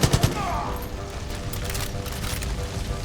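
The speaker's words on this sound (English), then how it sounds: "Gonna use the AK for this." Rapid AK-47 gunfire in Far Cry 5, a dense burst of loud shots at the start, then continued sharp gunfire with some brief voice under the shooting.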